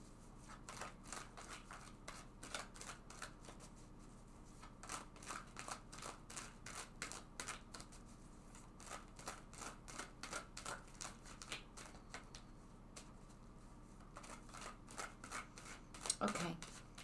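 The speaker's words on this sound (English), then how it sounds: "let's shuffle this deck several times" Quick, soft riffling and tapping of a tarot deck being shuffled, repeated in bursts close by against a quiet background.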